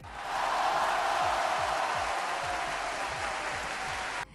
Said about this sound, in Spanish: aplauso muy merecido para Thais Herrera, nuestra montañista